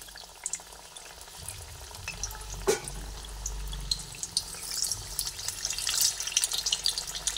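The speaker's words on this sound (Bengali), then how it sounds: "এক এক করে শিমগুলোকে আমি তেলের মধ্যে দিয়ে ভেজে নিচ্ছি।" Stuffed flat beans are dropped one by one into hot oil for deep frying, a low hiss that builds into sharper crackling bursts toward the end, with one brief clunk partway through.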